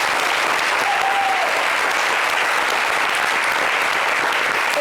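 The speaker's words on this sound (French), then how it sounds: "Ça s'applaudit." Dense, steady applause from a studio audience on a talk show, loud and continuous across the clip with no talk over it.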